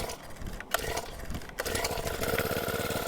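A small Honda petrol edger engine idles steadily with a buzzing, rattling drone, close by, with a couple of brief clanks partway through.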